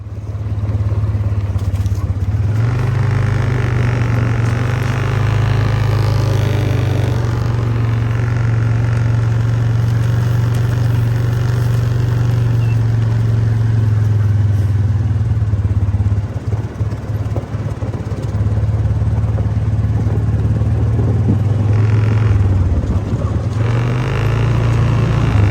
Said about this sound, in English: She just loves the four-wheeler.